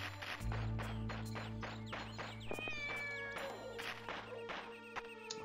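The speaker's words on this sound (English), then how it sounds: "Let's see that kitty cat." A cat meows repeatedly in the video game Shenmue, its calls rising clearly over steady background game music and rhythmic ambient tones.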